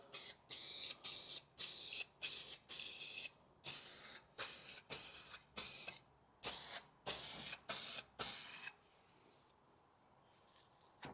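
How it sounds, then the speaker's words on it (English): An aerosol can sprays satin black paint onto a Mazda MX-5 front end in short regular bursts, each hiss about half a second long with brief gaps, close and steady, ending in quiet near the end. "we're going to give the can a shake up, and we're just going to apply the satin black to the area"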